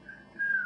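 A short whistle imitating a wolf whistle, made by a man whose thyroid was removed: a thin tone that slides and then rises louder in a brief second phrase, heard alone.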